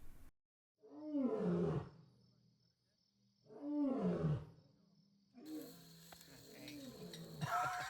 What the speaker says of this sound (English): just before heading up into our tents, we heard our first Mabua lion